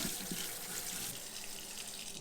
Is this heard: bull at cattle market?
no